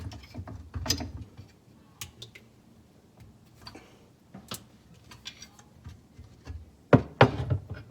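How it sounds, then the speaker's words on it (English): Pipe wrench working a square nut on a sink drain, with sparse metallic clicks, ratcheting scrapes and a few louder clanks near the end, close and fairly quiet. "we're gonna take this square nut thingy off and see what happens"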